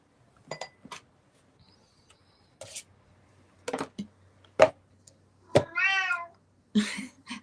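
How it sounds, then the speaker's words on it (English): Pet cats meow in a home during a live reading session: a few short, close meows and one longer drawn-out meow, scattered among light clinks of glass and dishes, with no talking. "I hear your cats there."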